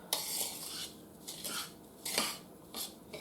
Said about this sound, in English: what I'm doing now is just basically I'm mixing up the sugar